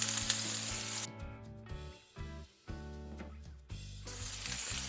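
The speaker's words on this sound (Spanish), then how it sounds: "Y los vamos a dorar, como te dije, a fuego bien fuerte, aproximadamente unos 3 minutos de cada lado" Beef rolls browning in a hot pan over high heat, a steady close sizzle and frying hiss with brief dips and surges as the meat is moved, no talking.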